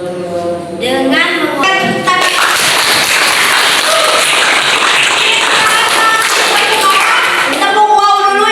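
A classroom group claps together in a burst of rhythmic applause lasting several seconds, framed by a voice leading the chant at the start and end.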